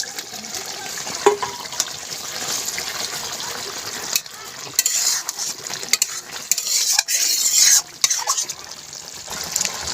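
Prawns going into a pot over a wood-fired stove in a village kitchen, with steady sizzling, frying and stirring scrapes over about ten seconds, loud and close, with occasional clatters.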